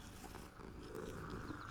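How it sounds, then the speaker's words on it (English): A cat purrs in the Transfiguration Courtyard of Hogwarts Legacy, a steady close rumbling that runs continuously under faint ambient game sound, with no talk over it. "it's purring through my controller"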